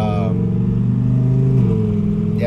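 A twin-turbo Audi R8 producing around 800 horsepower revs loudly and close up, a deep sustained engine tone that swells and drops pitch over a few seconds.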